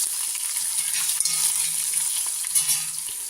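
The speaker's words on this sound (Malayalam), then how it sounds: "മുളക്, പച്ചമുളക്, കറിവേപ്പില, ഉള്ളി, ചെറിയ ഉള്ളി, ഇതൊന്ന് വഴറ്റണം" Red chilies, green chilies, curry leaves, onions and small shallots sauté in a pan with an even, bright crackling sizzle and a few faint knocks of a spoon.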